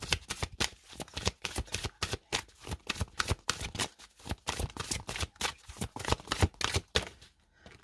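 Tarot cards being shuffled over and over, a quick run of crisp riffling bursts close by with short pauses between them, with no voices.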